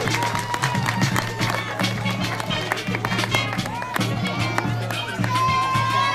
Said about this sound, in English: Let's get a loud round of applause for Intake 16.